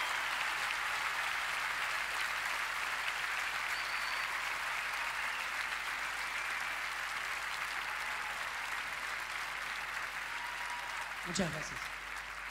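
Steady, sustained applause from a concert audience fills the space evenly, with a voice briefly speaking near the end.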